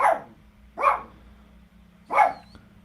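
A dog barks three times nearby, single sharp woofs spaced about a second apart.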